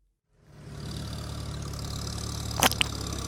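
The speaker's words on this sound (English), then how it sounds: "Today I am on my tractor." A tractor engine rumbles into a steady, close idle, with a brief sharp clank near the end.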